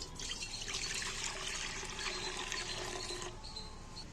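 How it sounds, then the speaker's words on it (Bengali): Water poured into a wok set over a lit stove runs as a steady, close splashing stream for about three seconds before it stops. "প্রথমে আমি উনুন জ্বেলে কড়া বসিয়ে আমি বেশ খানিকটা কড়ায় একটু জল দিয়ে দিচ্ছি"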